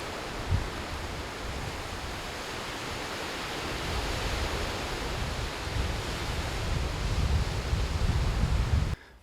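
Steady roar of ocean surf washing onto a beach at Carpinteria, a continuous broadband wash that swells slightly louder toward the end before cutting off abruptly.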